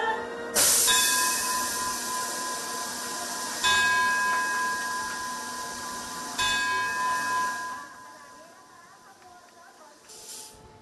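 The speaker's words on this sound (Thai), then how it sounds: "แน่นอนว่าเสียงลั่นระฆังแล้วเปิดวูดแบบนี้เป็นสัญลักษณ์ของการปล่อยขบวนรถไฟนะคะ" Departure of a freight container train carrying salt in Thailand: three loud, ringing bell strikes spaced a few seconds apart with long resonant decay, followed by a fading hiss and a faint distant horn near the end.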